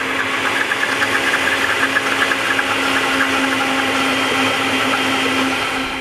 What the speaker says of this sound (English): we're going to turn our blender on for about 5 seconds